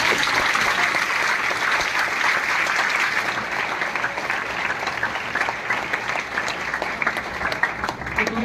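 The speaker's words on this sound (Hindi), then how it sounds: "तो इन दोनों के लिए भी जोरदार तालियां बजाओ" Sustained applause from a large audience at a motivational gathering, dense and steady for the whole stretch and fairly loud, with scattered louder claps near the end.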